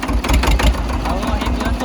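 A vehicle engine idles with a low, rough rumble and slight knocking, steady and close, as a voice talks over it.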